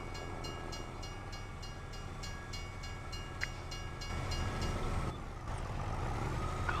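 A train rolls past a level crossing in Farming Simulator 25 with a steady, close rumble of wagons. A crossing bell rings in an even, repeating rhythm throughout.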